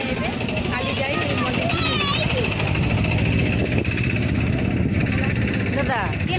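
A private boat's engine runs steadily on Chilika Lake near the Kalijai temple crossing, a continuous close drone under lively voices and chatter throughout.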